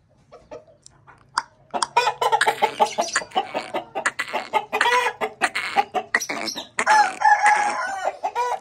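Aseel roosters cluck and crow close by, a dense run of repeated calls and squawks that overlap for several seconds with no speech.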